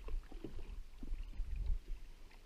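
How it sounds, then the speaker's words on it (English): A canoe paddles across Lake Lila, with soft, irregular dips and swishes of the paddle and gentle water lapping against the hull, quiet and close with no talking. "Paddling on Lake Lila with Mitch Crockett."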